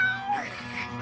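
A cartoon cat gives a single short meow, clear and close.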